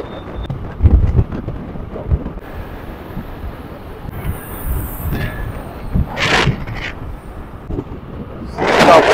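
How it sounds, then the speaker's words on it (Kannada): Strong wind buffets the microphone in low, rumbling gusts near Hubballi before rain, with a few brighter bursts of hiss swelling near the middle and end. "ಗಾಳಿ ಬೀಸ್ತಾ ಇದ್ದ."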